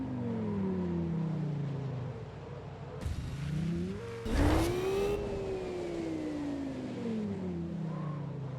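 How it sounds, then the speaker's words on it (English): Racing car engine in a video game, revving up and down in smooth pitch sweeps with a steady wind rush underneath, rising to a louder burst midway before settling back into a sustained drone. "We also tweaked how the engine sound plays when you're in midair"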